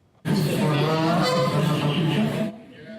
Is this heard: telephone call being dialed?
no